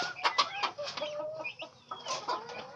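A hen raising turkey poults clucks in short, close, repeated calls, and the poults' thin high peeps are mixed in, busy and uneven, with no talking.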